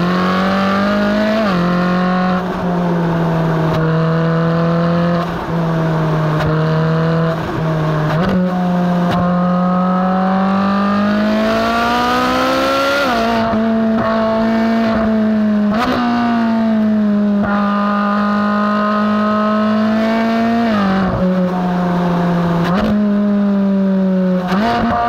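A Ferrari 458 Speciale driven hard on a road, its engine note loud and continuous from the cabin, climbing through revs and dipping briefly at each gear change.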